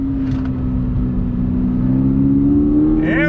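A 2022 Subaru BRZ engine pulls hard under throttle, its tone climbing steadily and loud from inside the car, with a quick rising sweep near the end.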